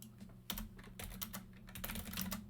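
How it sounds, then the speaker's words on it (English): Rapid, quiet keystrokes clatter on a computer keyboard as a router BGP command is typed, a dense run of close clicks over a low hum. "Type in router BGP 65035."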